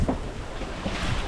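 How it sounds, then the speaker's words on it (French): A sailboat runs downwind at about five knots in calm conditions at sea between Gibraltar and La Gomera, with a steady rush of water along the hull and wind buffeting the microphone, no voices. "C'est calme, vent arrière, on fait du 5 nœuds à peu près, 5 nœuds 5."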